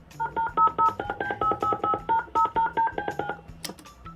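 A string of touch-tone telephone keypad beeps as a number is dialed for a call, about sixteen quick, evenly paced dual-tone pulses close up and loud, ending in a short click.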